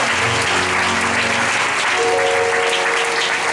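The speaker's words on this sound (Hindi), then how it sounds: "ताली बजाओ यीशु मसीह के नाम में।" A church congregation claps together in a dense, loud, sustained burst of applause lasting throughout, with a faint held tone underneath.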